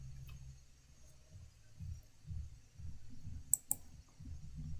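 A computer mouse clicks twice in quick succession, crisp and close, over a low hum and soft background rumble.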